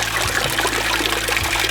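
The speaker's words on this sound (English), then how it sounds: "Fill up my water bottle with glacier water." Icy meltwater from a drinking fountain on Matanuska Glacier trickles steadily into a water bottle, a brief close splashing stream with a low rumble beneath and no voices.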